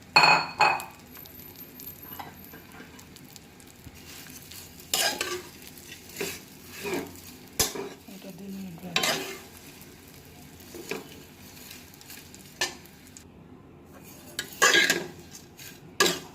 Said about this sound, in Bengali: সুন্দর করে ভাজছি আরেকটা আরেকটা ভাজবো